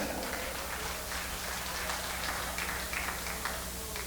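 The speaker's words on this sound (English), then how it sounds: "put your hands together for SPRANGALANG." A comedy show audience applauds as the comedian Sprangalang is introduced, a dense steady wash of clapping that holds at an even level throughout with no voices standing out.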